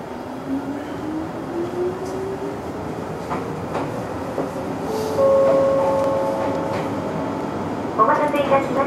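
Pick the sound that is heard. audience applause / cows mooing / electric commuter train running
electric commuter train running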